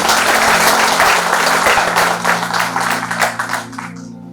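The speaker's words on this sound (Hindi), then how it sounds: "एक बार सभी अपने लिए तालियां, जोरदार तालियां बजाएंगे।" An audience applauds loudly at a Mann Ki Baat community gathering in India, the clapping strongest at first and then thinning into scattered claps, over a faint steady tonal hum.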